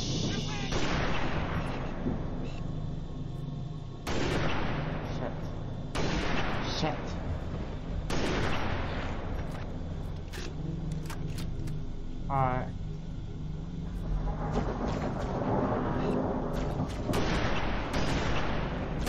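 Gunfire in Halo: The Master Chief Collection, heavy booming shots in spaced bursts with long decaying tails over continuous game noise, with occasional talking mixed in.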